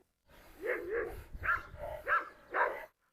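A Doberman in a dog fight gives a series of sharp barks and growling yelps, close and fairly quiet, in about five bursts across a few seconds.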